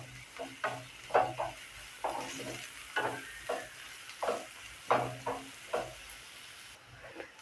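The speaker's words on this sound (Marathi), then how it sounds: "आता कांदा व्यवस्थित परतून घेऊया आणि कांद्यामध्ये आपण थोडं मीठ टाकून घेऊया" Onions sautéing with a little salt in a pan for paneer tikka masala: a steady oily sizzle under repeated rhythmic scraping strokes of a spatula, close and moderately loud, with no talking.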